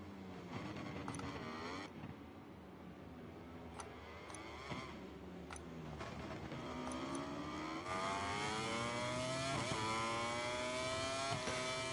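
Racing motorcycle engines in MotoGP 23 at the Kazakhstan Grand Prix, loud and continuous, with rising and falling revs, high-pitched whine and gear shifts from several bikes, close and steady throughout.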